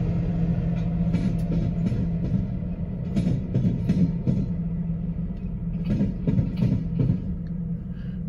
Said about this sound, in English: those two Decatur and Eastern Illinois locomotives, they get to go back into their own yard now.